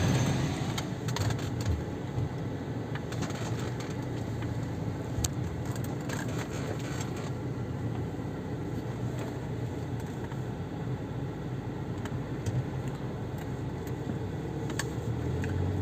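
A Fiat Freemont with a 62TE automatic transmission that slips into neutral in fourth gear drives a road test, giving a steady, unbroken hum of engine and road noise heard from inside the cabin.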